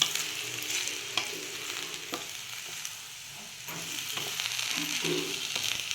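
Sweet potato slices with sugar and grated coconut are stirred in a pan, a soft sizzle under repeated scraping strokes of a spoon, close and fairly quiet with no talking.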